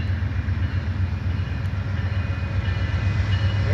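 An Amtrak California Zephyr passenger train passes close by with a steady low rumble and rolling rail noise, loud and unbroken, with no talk.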